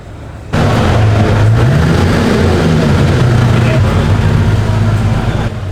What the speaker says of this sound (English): That engine note sounds nice as well.